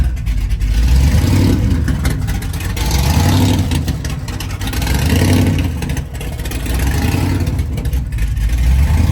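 A loud 1969 Camaro with a fuel-injected supercharged big-block V8 rumbles and revs in waves, exhaust dump open, with a raw, throaty exhaust roar that swells and eases several times.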